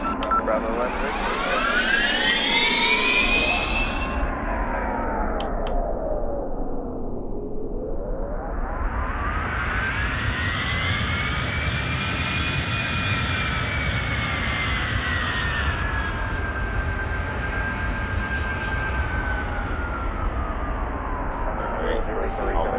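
A simulated Airbus A310 jet taxis in the Airline Commander game at Rarotonga, its engine whine loud and continuous, sliding smoothly down and back up in pitch over a constant rumbling roar.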